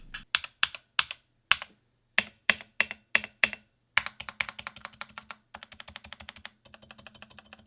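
Typing test on a modded Akko 3068 mechanical keyboard: sharp, close key clacks, first as separate spaced strokes and then as quicker clustered bursts of rapid typing, alone with no voices.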